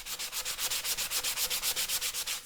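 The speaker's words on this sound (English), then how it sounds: "I'm going to use this just kind of a foam sanding block." Rapid rhythmic scrubbing of a foam sanding block against metal, about seven strokes per second, close and steady with no voices.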